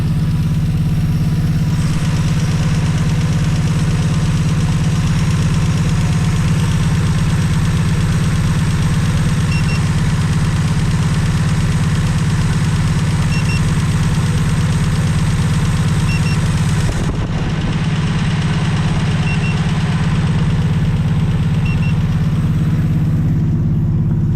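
A 1963 Plymouth Belvedere engine, back running after sitting since 1978, idles steadily with a low, throbbing rumble and a faint rhythmic pulse, close and loud throughout with no talking.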